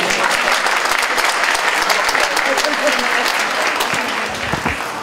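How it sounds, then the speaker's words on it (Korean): An audience claps loudly and continuously at the opening ceremony of a youth sports festival in Sejong, dense applause that thins slightly toward the end with a few voices beneath. "힘찬 박수 부탁드리겠습니다."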